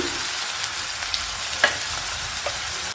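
Onions fry in a pan as the base for a prawn and ridge gourd curry, giving a steady, close hiss of sizzling oil for the whole stretch, with a few faint stirring clicks and no voices.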